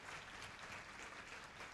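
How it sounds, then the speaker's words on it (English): Audience applause for the chair board members at the opening ceremony of a 2024 Model United Nations conference, a steady, dense wash of many hands clapping that fills the whole stretch at an even level and sounds somewhat distant. "Can we honor them with an applause?"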